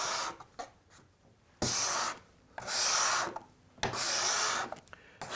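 A hand scraper works across a wooden surface in three long, rasping push strokes, each a steady broadband scrape with brief quiet pauses between them, close and fairly loud, with no talking.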